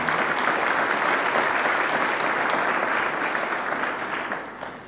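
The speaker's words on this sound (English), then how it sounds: "Let's give everyone a big round of applause" Dense, sustained applause from a large award-ceremony audience, loud and even, tapering off slightly toward the end.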